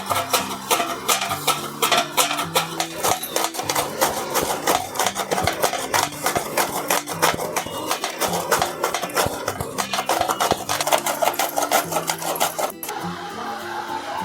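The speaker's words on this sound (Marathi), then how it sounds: "किसणीच्या साह्याने भोपळा किसून घ्यायचा" A bottle gourd is grated on a hand grater in a home kitchen, giving rapid, continuous rasping strokes that are close and fairly loud and run steadily for several seconds before stopping.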